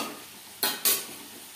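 Coriander seeds are stirred in a hot kadai over a low flame: two quick, close scraping strokes, faint and otherwise quiet.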